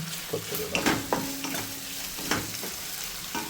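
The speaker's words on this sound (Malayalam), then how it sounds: "കളർ മാറുന്ന വരെ നമ്മളിങ്ങനെ റോസ്റ്റ് ചെയ്യും" Prawns roast and sizzle in a pan for a Thalassery-style prawn biryani, a steady close frying hiss broken by scrapes and clinks of a stirring spoon against the pan.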